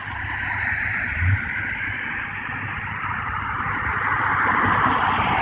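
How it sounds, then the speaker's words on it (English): A car passes along a street outdoors, its steady broadband road and engine rumble filling the whole stretch at a moderate, even level, with a brief low thump partway through and no speech. "while I wait until this car passes"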